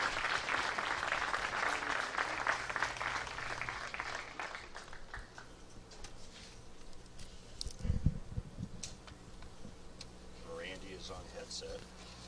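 A large overflow crowd at a PBA bowling match in suburban Detroit applauds, a dense patter of clapping that gradually fades, followed by softer crowd murmur and a few sharp knocks.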